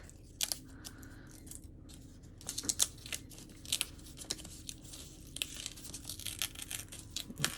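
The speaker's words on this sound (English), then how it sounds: "Let's take off the numbers and see how things look." Number stencils are peeled away from dried paint on paper, giving quiet, intermittent tearing and crinkling bursts with short pauses between them, close by and soft.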